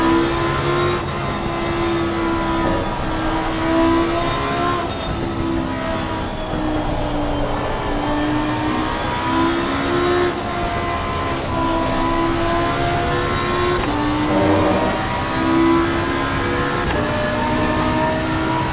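Race car engine in Assetto Corsa Competizione at Suzuka, a loud, continuous high-pitched roar with steady rising and falling revs and repeated throttle lifts, close and alone without talk.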